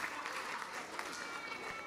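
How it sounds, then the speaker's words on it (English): An audience at a public library's grand opening ceremony applauding a group of book characters, dense continuous clapping from a crowd filling the room. "Let's cheer for them all."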